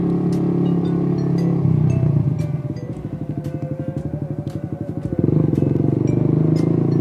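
A Suzuki GSX-R150 sport motorcycle engine idles and putters close by, with a rapid rhythmic throb in the middle before it revs up again near the end.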